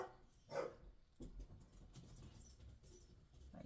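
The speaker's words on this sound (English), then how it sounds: "Hopefully you can't hear my dog barking in the background." A dog barks in the background of a quiet room, with a louder yelp or bark early on and fainter sounds after it.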